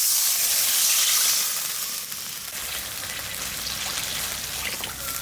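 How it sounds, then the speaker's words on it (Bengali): Water poured onto taro frying in a pan sets off a loud hiss that eases into a steady, dense sizzle and bubbling, close by, with no talking. "কচুটা একটু কষাই নিলাম, একটা জল দিয়ে দিচ্ছি"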